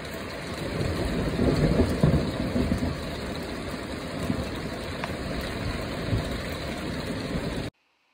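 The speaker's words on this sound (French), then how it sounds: "tu as entendu même de la grêle. Et là, ça tombe pour de bon" Heavy rain with hail drums hard and continuously on the roof of a camper van while thunder rumbles low beneath it, a dense, steady roar that cuts off abruptly at the end.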